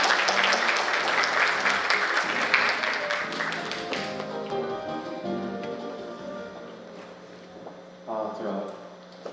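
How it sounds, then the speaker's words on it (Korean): Clapping from an audience at a university mock parliament event welcomes a speaker, a brisk burst that fades within a few seconds as other sounds and some voices follow. "큰 박수로 맞이해 주시기 바랍니다"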